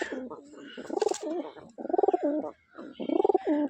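Rajshahi Giribaz pigeons, a male and female pair, coo in close, throaty rolling bursts, three main phrases with short pauses between them.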